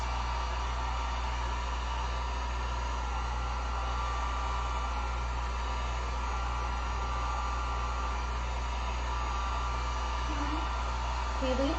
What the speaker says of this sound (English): I'm gonna just hit this with the heat gun real quick, just so we don't pull up any of our paint